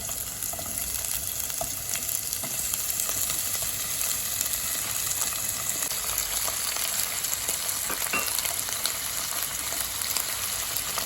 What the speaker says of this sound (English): In a pan, heat around 2 tablespoons of oil, add onions, add the green tomatoes,